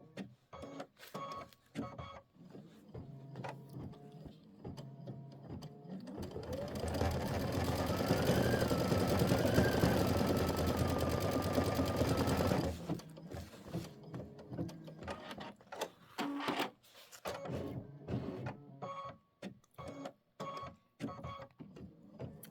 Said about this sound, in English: And then we're going to put the cobalt in, and we're going to stitch the flower 2 center fill.